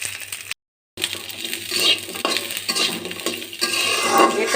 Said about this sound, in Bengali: হালকা তেলে আমি এটাকে এখন ভেজে নেব।